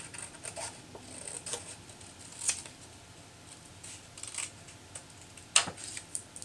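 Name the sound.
cutting paper along a curve for a birthday card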